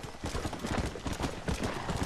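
Horse hooves clip-clop steadily at a brisk, even rhythm in the Red Dead Redemption video game, close and fairly loud, with no talk over them.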